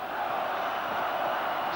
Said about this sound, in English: Listen to that crowd getting behind Roma, Roma.